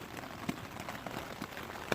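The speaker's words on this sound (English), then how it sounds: "It started raining like maybe 5 minutes before we got here." Light rain patters steadily on a camping tent during an overnight hike, soft and close, with a few louder drops tapping the fabric now and then.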